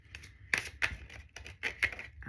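Tarot cards being shuffled during a reading, a series of crisp, close riffling snaps and flutters in quick uneven bursts with no talk.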